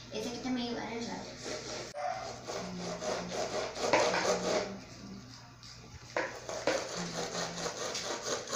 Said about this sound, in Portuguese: Terminamos de ralar a massa.